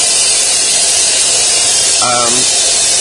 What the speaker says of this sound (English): He's getting his little chop saw. There we go. Chopping the rifle.